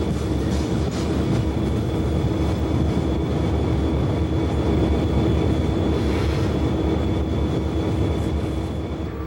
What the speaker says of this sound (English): the second train heads past the WEPX train